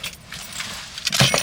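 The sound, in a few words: keys jangling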